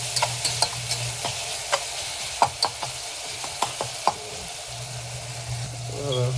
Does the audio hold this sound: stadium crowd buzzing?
no